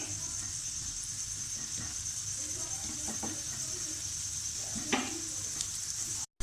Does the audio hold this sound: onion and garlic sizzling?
yes